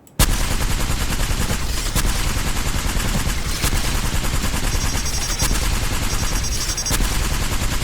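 The L-STAR energy gun in the Apex Legends video game fires continuously, a loud, dense stream of rapid shots that barely lets up, with brief breaks in the rhythm and no voices.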